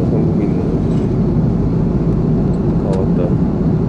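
Steady, dense airplane cabin roar during a flight home from Sri Lanka to Korea, a continuous low broadband drone with faint chimes and muffled voices in the background.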